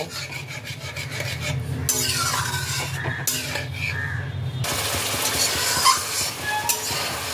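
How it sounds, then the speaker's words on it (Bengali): Tilapia fish masala with fennel paste is stirred and sautéed in a pan, a steady close scraping and rubbing with a continuous sizzle beneath, loud throughout with no talk. "মৌরি পেস্ট দিয়ে এটাকে আমি আবারও খানিকক্ষণের জন্য কষিয়ে নেব।"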